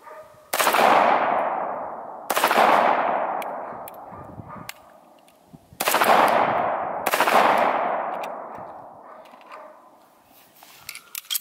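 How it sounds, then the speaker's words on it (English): A handgun firing steel-cased ammunition at an outdoor range, four loud, close sharp reports in uneven succession, each ringing out in a long decaying echo, with no talking. "I'm using steel ammo. This gun hates steel ammo."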